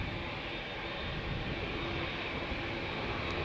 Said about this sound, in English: KLM flight 605 to San Francisco. 787-10 Dreamliner.